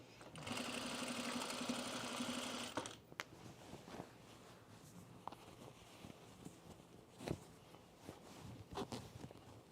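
A sewing machine stitches a seam on a pajama top in a quiet room, a steady run of fast humming for about three seconds, then stops, followed by faint handling clicks and rustles.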